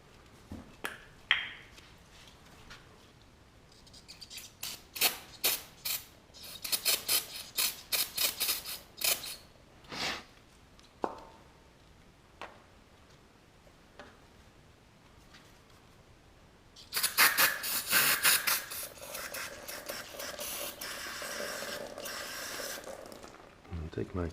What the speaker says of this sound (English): So, time for the brake cleaner.